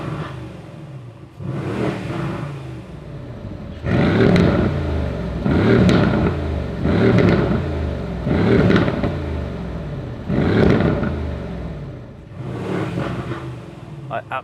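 A Mercedes-AMG GLC63 S Coupé engine in Race mode revs repeatedly, a series of loud throaty blips and roars in quick succession, close up, with no one speaking.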